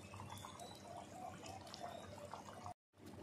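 Snakehead fish curry with giant taro simmering in a pot, giving a steady, close bubbling texture that breaks off briefly near the end, with no talking.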